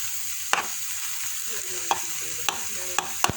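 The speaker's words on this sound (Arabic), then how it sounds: "لما صار أشقر ضفت صدر الدجاج" Chicken breast frying in a pan with a tiny stock cube, sizzling steadily in the background while a utensil scrapes and clacks against the pan in four or five sharp strokes, no talking.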